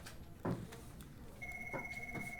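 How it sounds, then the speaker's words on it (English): Telephone ringing faintly in a room, a steady tone entering partway through, with a few soft knocks and thumps nearby. "I got a phone call"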